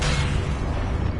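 Confringo fire blast spell going off in Hogwarts Legacy, a loud, dense rumbling boom filling the whole moment with a heavy low-end roar and no voice over it.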